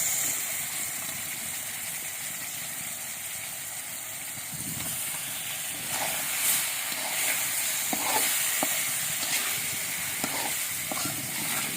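Bata fish frying in hot oil in a home kitchen, a steady loud sizzle and hiss throughout, with a few sharper crackles and stirring clinks toward the end and no speech.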